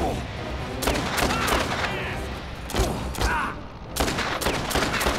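Rapid bursts of gunfire from the video game Dead Rising 2, with overlapping, loud volleys of shots repeating through the whole stretch.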